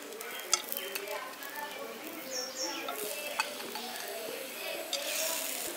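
Whole spices such as coriander seeds, cumin, fennel and garam masala are dry-roasted in an empty pan, with soft rustling, stirring and light scraping plus a few sharp clicks, fairly quiet and close, with no talking.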